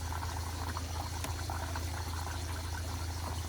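Water steadily filling a camper's onboard tank fitted with an internal float, a continuous close gurgling, bubbling rush with a low hum beneath, uninterrupted and without talk.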